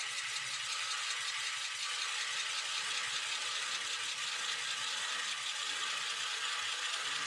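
Cherry wood turning on a lathe at about 300 to 400 RPM with carbide Flossner bits, hollowing a form: a constant, fairly quiet hissing and rattling cutting noise that runs unbroken throughout.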